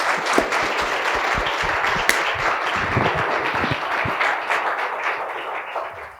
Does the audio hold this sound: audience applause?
yes